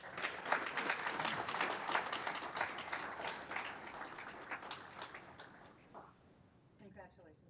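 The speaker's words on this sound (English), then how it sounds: "Round of applause, please." Audience applause at a graduation ceremony, dense sustained clapping from a large crowd that gradually thins and fades toward the end, with brief voices near the close.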